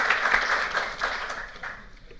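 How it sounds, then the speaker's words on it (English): A meeting audience breaks into applause, a dense wash of many hands clapping together that starts strong and gradually tapers off over about two seconds, heard at moderate distance without speech. "I think we should all give him a round of applause for what he has accomplished in the past 2 years."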